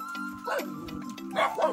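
A dog gives short yips and whimpering barks close by, over a steady hum, with a couple of brief bursts near the end.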